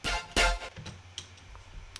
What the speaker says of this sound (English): the color layer is just a transient input routed through hybrid reverb